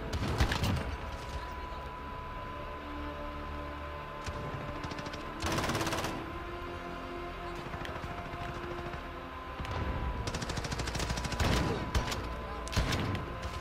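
Bursts of gunfire in Call of Duty crackle out in rapid automatic volleys, separated by quieter stretches with a steady game tone underneath; players' voices are not clearly heard.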